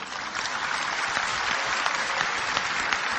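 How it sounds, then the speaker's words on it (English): Steady applause from a lecture audience, dense continuous clapping filling the hall at moderate level, with no speech over it. "MashaAllah, you're clapping."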